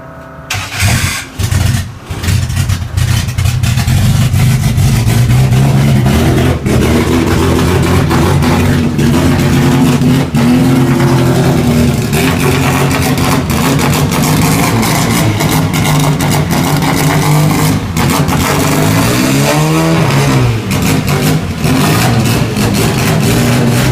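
A 1960 Triumph Bugeye race car, up on jack stands, starts and revs; the engine coughs to life, then runs loud and close with rising and falling revs and a rough, throbbing idle between blips.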